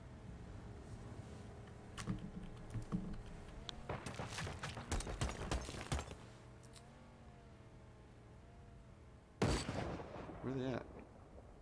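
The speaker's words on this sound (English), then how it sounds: "I want to see all these explosions I'm hearing." Gunfire and explosions in a video game: a rapid cluster of sharp shots and booms in the middle, then one loud blast later, under game engine noise and a brief spoken question.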